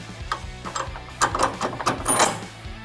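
Quick metallic ratchet clicks come in short bursts as a track bar is reattached on a Jeep Wrangler during a Rock Krawler suspension install, close up with a few gaps between bursts and no speech.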